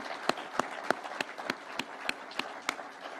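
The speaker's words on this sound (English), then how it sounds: "please let us clap for those great people" An audience at a State House gathering claps for constitutional commissioners: sparse, fairly rhythmic individual claps, about three per second, over a soft crowd bed with no talk.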